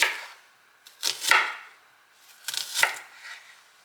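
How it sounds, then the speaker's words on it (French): Onions being sliced into rings on a board, a few separate knife strokes with crisp cutting crunches, close and spaced about a second apart, with quiet gaps between. "venir éplucher et couper nos oignons en rondelles"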